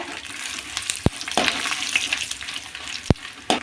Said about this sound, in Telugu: ఎండుమిర్చి కొంచెం ఫ్రై అయిన తర్వాత ధనియాలు మెంతులు జీలకర్ర అన్నీ కూడా ఫ్రై చేసుకోవాలా